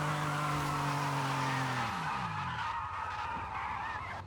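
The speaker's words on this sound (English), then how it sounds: "why is this one sliding so much?" A car in the racing video game Forza Horizon 5 slides and skids, its tires squealing in long, loud wavering tones over a roaring engine that then breaks into rougher scrabbling noise.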